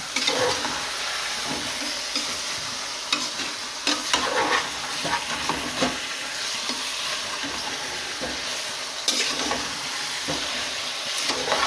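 Two kilograms of meat with onions stirred in a pot for Kabuli pulao: a loud, continuous sizzle broken by repeated scraping stir strokes, with no one talking.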